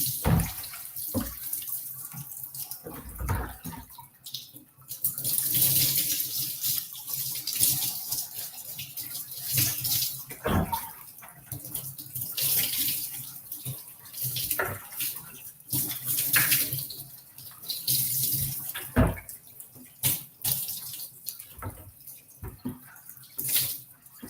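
Water running from a tap while hair is rinsed, a steady splashing stream broken by uneven bursts and drips as hands move through it, close and fairly loud, no talk.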